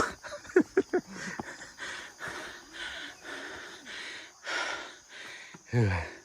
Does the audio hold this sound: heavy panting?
yes